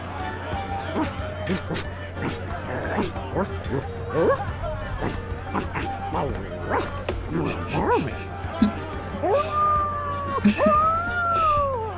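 A person imitates a dog in The Secret of Monkey Island, a voice giving a rapid series of barks and yips over game music, ending in a few whimpering howls.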